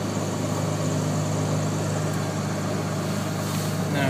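A light aircraft piston engine fitted with Electroair electronic ignition runs steadily after a cold start, a loud, dense, continuous drone with a constant low engine hum and no break or change in level.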